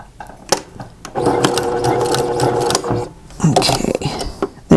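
A sewing machine runs steadily, stitching a fabric coupon wallet in bursts with brief pauses, its mechanical whir close and loud.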